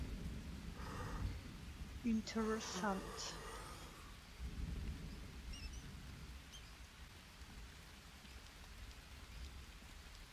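Soft, steady rain patters outdoors in the jungle survival game Green Hell, with a brief quiet remark spoken over the start; the downpour stays low and continuous with no distinct thunderclap.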